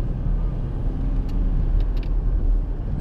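The Ford Falcon FG Mk2 XR6 Turbo ute with manual gearbox drones low and steady from inside the cabin while driving, a constant rumble with faint brief higher clicks over it.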